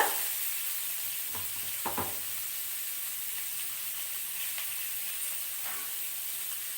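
Grated kohlrabi curry sizzling and frying in a pan, a steady hiss broken by a few scraping stirs of a spoon early on, close and unaccompanied by talk.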